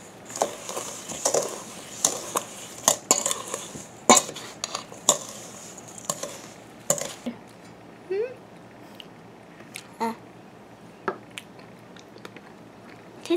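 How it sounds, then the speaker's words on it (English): Stirring berry pie filling in a bowl, with a series of sharp clinks and scrapes of a utensil against the bowl, irregular and close, fading toward sparse taps, with a brief voice partway through. "Stir it all up"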